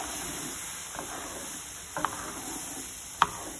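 A spoon stirs sausage gravy in a pan, making a faint, soft scraping with a few light clicks against the pan, heard alone at a low level.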